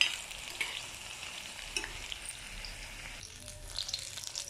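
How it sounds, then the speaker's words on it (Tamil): Brinjal pieces deep-frying in hot oil for kathirikai thokku, a steady close crackling sizzle with light stirring scrapes, continuous and fairly loud, no voices. "கத்திரிக்காயை எண்ணெயில் நல்லா பொரிக்கணும்"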